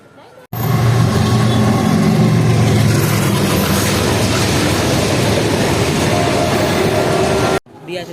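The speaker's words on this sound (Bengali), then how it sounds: "বন্ধুগণ দেখতে পাচ্ছেন আমাদের ট্রেন এসে পৌঁছালো সাগরদিঘি 2 নম্বর প্ল্যাটফর্মে।" A MEMU passenger train rumbles into platform 2 at Sagardighi station, a loud sustained roar of engine and rolling wheels that holds steady for several seconds before cutting off, with no speech over it.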